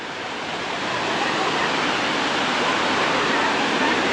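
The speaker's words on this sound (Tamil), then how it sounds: "பால் அருவி வாட்டர் ஃபால்ஸ் கிட்டக்கா வந்தாச்சு" Palaruvi waterfall pours down in a steady, full roar of rushing water that holds constant and loud throughout, with no break in the flow.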